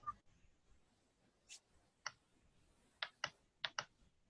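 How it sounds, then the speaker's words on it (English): Sparse, light clicks of typing on a computer keyboard during a Zoom call, arriving as a few isolated taps and then a quick cluster of keystrokes, faint over a quiet background. "I can hear you typing."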